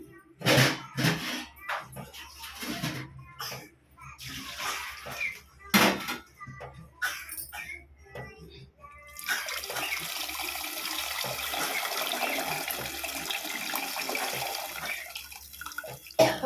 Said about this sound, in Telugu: కొద్దిగా ఎసర పోసేస్తున్నా నేను